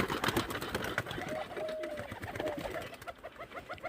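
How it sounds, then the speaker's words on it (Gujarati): Pigeons cooing close by in soft, repeated throaty calls that continue steadily, with faint rustling and background noise around them. "આપણા કબૂતર બહાર નીકળી ગયા"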